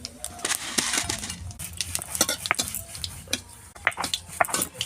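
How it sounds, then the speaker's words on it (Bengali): Panch phoron spices splutter in a little oil in a kadai, making scattered, irregular crackles and pops at moderate loudness. "এবার আমি কড়াইতে সামান্য তেল দিলাম, এর মধ্যে অত বেশি তেল লাগে না আচারে। এর মধ্যে একটু 5 ফোড়ন দিলাম"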